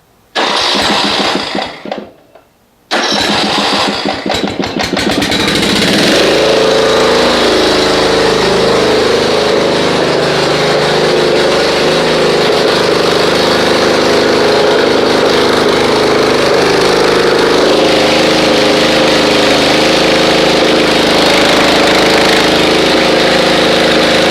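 A Snapper RER Comet riding mower engine cranks briefly, cuts out, then starts and settles into a loud, continuous, slightly uneven idle that runs rough close to the microphone, with no talking.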